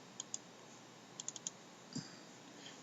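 Computer mouse clicks at a desk, heard as a quick pair of sharp clicks, then a tight cluster of four, then a softer click, all close and crisp over a quiet background hiss.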